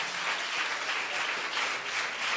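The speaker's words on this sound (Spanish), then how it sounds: "Denle un aplauso al Señor con todo su corazón" A church congregation applauds steadily throughout, a dense, even clapping that neither builds nor fades, with no voices over it.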